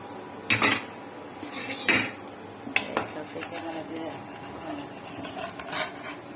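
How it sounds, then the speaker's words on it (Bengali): Rohu fish pieces go into a pan with fried onions and green chillies for a fish bhuna, giving a few sharp clatters and scraping knocks of utensil on metal, fairly close, with low background noise and no talk. "মাছ দিয়ে দিচ্ছি এখন। সবগুলো মাছ দিয়ে দিব।"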